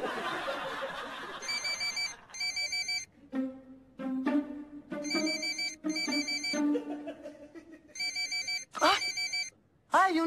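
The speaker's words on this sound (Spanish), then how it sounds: "¡Hay una llamada de la empresa!" A telephone rings in repeated electronic bursts at close range within a comedy scene, alternating with people talking and chuckling between the rings.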